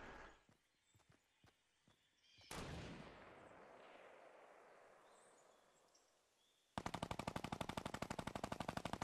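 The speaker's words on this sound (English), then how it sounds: "The guy on top of the hill shooting at him, Joe." In a Fortnite match, a few sharp single shots come first, then a long rolling blast that fades, then a rapid, loud burst of automatic fire from a player on a hill, with no voices.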